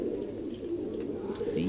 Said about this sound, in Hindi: ये बहुत अच्छा कबूतर है माशाल्लाह।